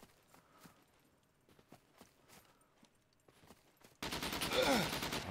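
Gunfire in the survival shooter SCUM: faint scattered distant shots and thuds, then a sudden loud, close, rapid automatic burst rattling for the last second.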